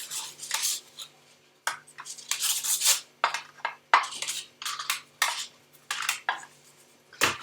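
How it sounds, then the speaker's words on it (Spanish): Béchamel sauce being spread over a layer in a baking dish, heard as soft scraping and clinking of a utensil against the dish in irregular strokes, close and fairly quiet, with no talking. "más o menos extendéis la bechamel por aquí por esta capa"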